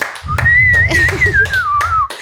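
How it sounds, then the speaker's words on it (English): A few slow, separate hand claps sound nearby, with a thin whistling tone running over them. "So round of applause. Slow."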